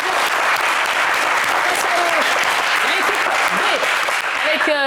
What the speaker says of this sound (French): On va les applaudir très fort pour les encourager.